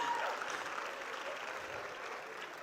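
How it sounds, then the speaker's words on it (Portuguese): An audience applauds at a corporate HR event, a soft, steady wash of many hands clapping that sounds somewhat distant and continues evenly throughout with no voices above it. "Uma salva de palmas, muito bem."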